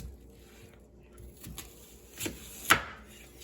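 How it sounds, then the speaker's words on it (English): A knife cuts a halved onion into fourths on a cutting board for a pot roast. A few quiet chopping knocks come close by, each louder than the last, in an otherwise quiet kitchen. "now we're gonna cut the onion into fourths"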